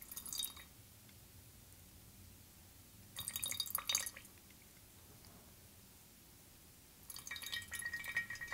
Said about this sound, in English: It's really important to get the last drops, as these come from the very bottom of the teapot